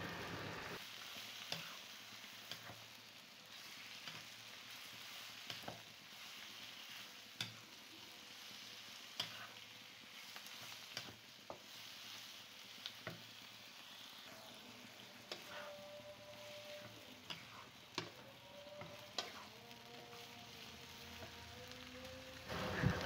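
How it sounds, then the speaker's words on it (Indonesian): Sliced meatballs and mushrooms frying in a pan, with a steady oily sizzle broken by scattered scraping clicks of a utensil stirring the mix, close and continuous with no talking. "Tinggal kita aduk-aduk lagi aja biar tercampur rata."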